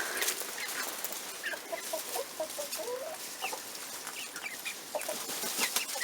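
Silkie chickens cluck with a silkie rooster among them, close and repeated in short soft bursts and murmurs over a light background hiss, no talking.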